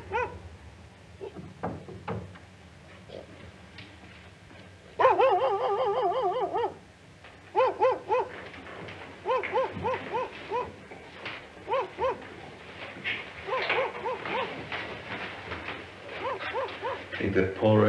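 A dog barks and yips in short bursts and quick clusters at mid distance, with stretches of quieter room sound between them.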